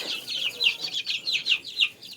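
A cluster of chicks cheeps and peeps rapidly, with high, repeated chirps, nearby and fairly faint, no talking, as they are moved into a barn.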